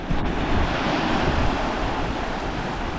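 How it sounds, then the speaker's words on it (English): Ocean surf breaks and rumbles continuously at Canal Rocks, loud and close, with heavy wind buffeting the microphone throughout. "Waves are picking up this afternoon."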